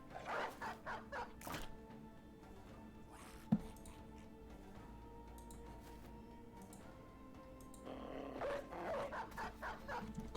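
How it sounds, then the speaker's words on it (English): War dog barking in Battle Brothers, a turn-based medieval combat game, with several short barks in bursts at the start and again near the end over a steady hum of game ambience. "This guy who doesn't get to attack will unleash his war dog."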